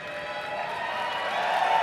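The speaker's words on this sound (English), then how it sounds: "Listen to that crowd." Arena crowd at Dota 2's The International 2024 sends up a dense, steady roar of cheering and applause that swells slightly louder toward the end.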